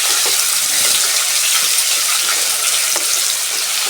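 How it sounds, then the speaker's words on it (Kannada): Rice frying in oil and ghee sizzles loudly and steadily in a pan, a dense continuous hiss close up with faint stirring scrapes and no speech. "ಈಗ ಇದನ್ನು ಎಣ್ಣೆ ತುಪ್ಪದಲ್ಲಿ ಸ್ವಲ್ಪ ಫ್ರೈ ಮಾಡ್ಕೊಳ್ಳೋಣ."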